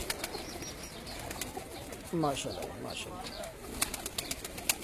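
Rooftop pigeons in Punjab fly and coo, with a short burst of wing flapping near the middle over a steady outdoor background, while someone speaks briefly.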